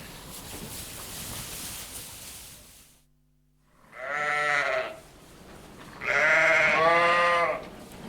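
A ewe and lambs bleating in a lambing pen, two loud close bleats after a stretch of quieter background noise.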